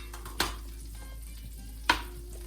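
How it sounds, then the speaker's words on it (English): Chopped tomatoes and garlic hit a hot pan for caprese chicken, giving a steady close sizzle of frying with two sharp bursts of crackle as pieces drop in, no talking. "we are going to add our tomatoes that are cut up here and our garlic"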